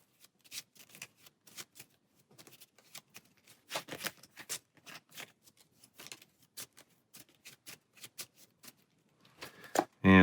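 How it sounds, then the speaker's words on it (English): Cards from an invocation deck shuffled during a Marvel Champions tabletop card game, a run of quick close riffling and snapping bursts with short pauses, alone without talk. "shuffle our invocation stack"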